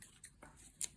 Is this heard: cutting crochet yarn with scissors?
yes